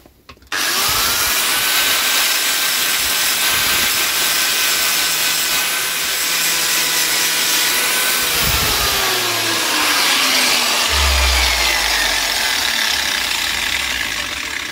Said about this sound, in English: Got a grinding disc on the angle grinder